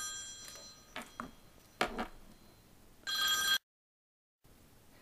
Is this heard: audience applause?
no